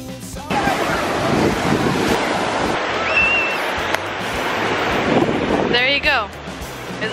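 Waves breaking on a beach in sunny weather, with steady wind buffeting the microphone throughout and a continuous rushing surf close by, plus a brief high chirp near the end.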